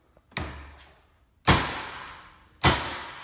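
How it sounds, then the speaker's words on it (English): Three sharp metallic strikes of a hammer on a punch driving in wheel studs, spaced about a second apart, each ringing briefly before fading; loud and close with no talking. "We're choosing the hammer and punch method of stud installation."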